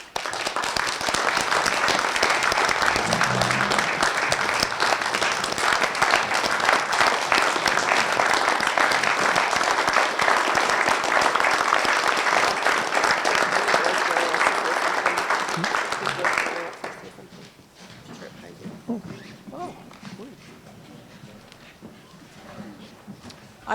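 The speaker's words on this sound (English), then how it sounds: "And I would request a round of applause for Eric and his service." Audience at the Johnson Town Meeting applauds a retiring official, loud dense clapping filling the room for about sixteen seconds before it cuts off and a quieter room tone with faint voices follows.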